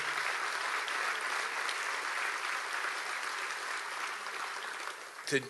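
At a labor studies awards dinner, a crowd applauds two student speakers in a sustained wash of clapping that holds steady, then ends abruptly with a sharp bump.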